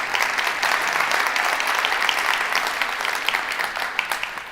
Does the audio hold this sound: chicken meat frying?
no